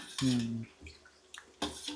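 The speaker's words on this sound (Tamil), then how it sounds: "அப்படியே தாளிச்சு ஊற்றி" Short bursts of hot tempering poured into curd rasam with a sizzling splash, with clinks of a metal utensil against a pot in between.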